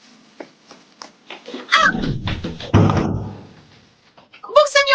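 Someone bangs and thumps on a locked door in a series of irregular heavy knocks and thuds, mixed with urgent shouting and agitated voices in the room.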